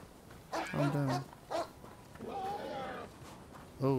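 A dog in the video game Rise of the Ronin barks a few times, short sharp yelps spaced apart, with a muffled voice between them.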